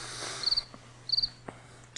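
A cricket gives two short pulsed chirps, fainter and somewhat distant, against a soft hiss, with a few light taps in between and a sudden brief noise at the end.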